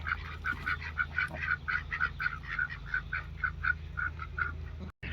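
Ducks and geese on a farm give a rapid, steady run of quacks and honks close by, with a low background hum under the calls.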